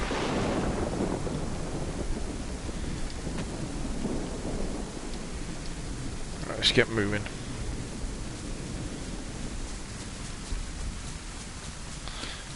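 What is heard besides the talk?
rain and thunder in the video game DayZ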